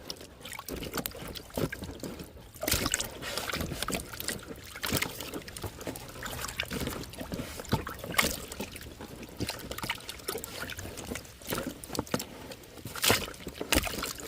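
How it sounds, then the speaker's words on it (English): Water sloshing and splashing over freshly dug turmeric roots being rinsed, irregular wet splashes and trickles throughout, fairly close. "You're trying to rinse it off and see what comes up from here."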